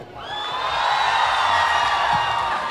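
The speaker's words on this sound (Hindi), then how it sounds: "एक बार अपनी एक्साइटमेंट एक बार फिर से जोरदार तालियों से" A college campus audience at LPU breaks into applause and cheering, a steady, dense wash of clapping and whoops that swells and holds throughout.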